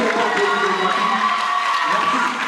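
An audience at a debate on civil disobedience claps and cheers after a speech, a dense steady burst of applause with some voices mixed in, tapering slightly at the end.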